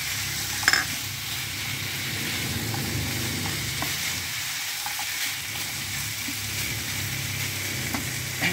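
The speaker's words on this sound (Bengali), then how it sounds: "তার সঙ্গে দিয়ে দিলাম কড়াইশুঁটিটা।" Green peas go into chicken already frying in a kadai for a poppy-seed chicken curry. A loud, steady, close sizzle runs throughout with faint stirring clinks and no voices.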